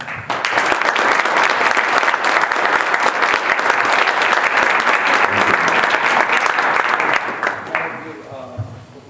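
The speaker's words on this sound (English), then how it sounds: "the parents and the students also deserve a round of applause" Loud, sustained applause from parents and students at a board of education meeting, a dense steady wash of clapping for about seven seconds that fades out, with a few voices near the end.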